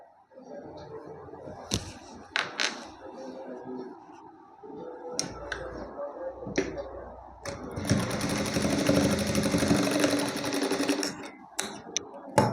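Sewing machine stitching a fitting seam on a blouse: short bursts of mechanical whirring, then a long steady run of rapid stitching near the end, with a voice talking over parts of it.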